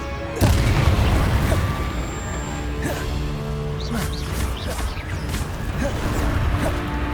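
The Confringo spell in the Hogwarts Legacy video game sets off a booming blast, followed by a sustained rumbling, crackling roar with scattered pops and whooshes.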